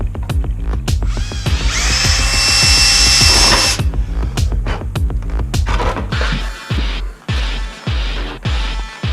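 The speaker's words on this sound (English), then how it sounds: "But I'm going to drill a second hole because I'm actually mounting 2 switches." A power drill bores holes in a motorcycle's handlebar area to mount switches for heated grips. A loud, sustained whine gives way to a series of short stop-start bursts of drilling close to the microphone.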